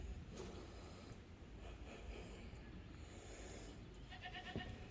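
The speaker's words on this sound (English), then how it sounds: "I hear a goat." A goat bleats briefly near the end, a short wavering cry over steady outdoor background noise.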